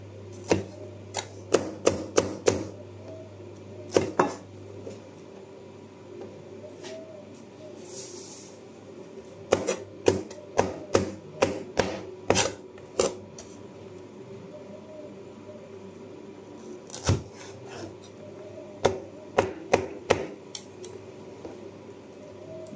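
Dull knife chopping pepper on a board for fried rice, in quick bursts of sharp thuds repeated in clusters with pauses between, close and fairly loud.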